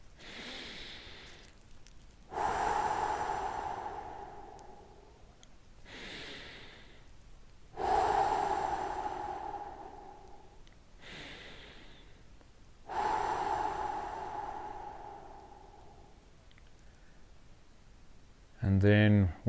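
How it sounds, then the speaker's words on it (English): Three slow, deep breaths taken one after another during a guided relaxation, each a long, audible inhale and exhale close to the listener, separated by short pauses, with a short voiced sound at the very end. "just take 3 big deep breaths again"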